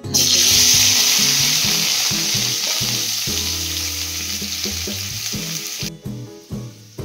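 Chopped vegetables fry in hot oil for eggplant bharta, a loud, steady sizzle that runs for about six seconds before cutting off abruptly, with a soft tonal melody playing underneath.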